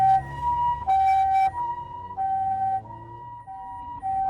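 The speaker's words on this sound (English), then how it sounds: "They just listen to your siren like music playing on their ears." A loud ambulance siren wails nearby, its two-tone pitch alternating steadily up and down with no voices over it.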